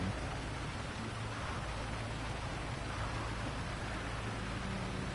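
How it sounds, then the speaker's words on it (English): Soft, steady hiss of rain falling, a faint continuous wash of drops with no voices. "So we're just waiting here for the rain to stop"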